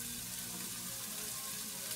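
Onions and celery frying in a pan over medium-high heat, a steady soft sizzle close by with no talking.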